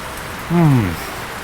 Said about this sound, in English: we've got some rain coming through here